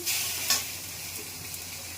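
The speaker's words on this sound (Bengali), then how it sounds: "এবার আমি বসিয়ে দেবো তরকারিটা, দেবো পাতা ফোড়ন" A sharp burst of sizzling as spices such as cumin, radhuni and chillies hit hot oil for tempering, then a steady crackling fry, with a soft clink partway through.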